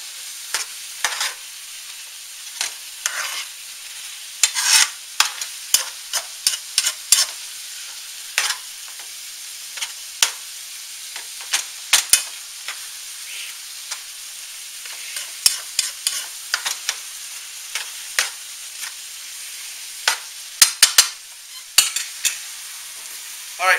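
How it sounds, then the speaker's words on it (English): Hamburger meat browning for chili in a pan while a utensil breaks it apart, with a soft sizzle under frequent sharp scrapes and clacks that come in irregular bursts throughout. "as you're cooking the hamburger, just go ahead and start breaking it up"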